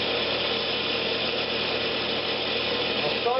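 Skew chisel cutting a shallow recess around the rim of a wooden box lid spinning on a wood lathe, giving a steady, continuous broadband scraping whir close by with no break, tool contact even throughout.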